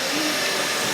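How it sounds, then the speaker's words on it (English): Construction drilling behind an outdoor interview spot makes a loud, steady broadband grinding roar that runs unbroken for the whole second, with no speech. "They're literally doing drilling right behind me."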